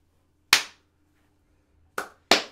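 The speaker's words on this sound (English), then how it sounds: "So the clap appears in the audio of the and in the video." Three sharp, isolated hand claps in a quiet room, one early and then a quick pair near the end, each crisp and close.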